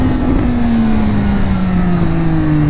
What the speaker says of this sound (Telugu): ఇప్పుడు థ్రాటిల్ ఇవ్వగానే ఎట్లా పుల్ చేసింది ఇప్పుడు చూడండి